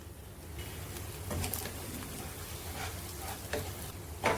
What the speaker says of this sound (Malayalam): ഉള്ളി വാടി വന്നിട്ടുണ്ട്